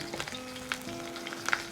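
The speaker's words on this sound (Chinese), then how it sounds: "然后保持中火下入控干水分的骨头，" Drained pork bones hit hot vegetable oil in a pan over medium heat, giving a quiet, continuous sizzle with a few small crackles and pops.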